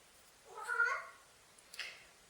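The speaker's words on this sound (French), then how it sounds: "Chacha, le mâle, là, c'est un chat" Male cat meowing twice, a drawn-out nearby meow followed by a shorter, fainter one, alone in a quiet room.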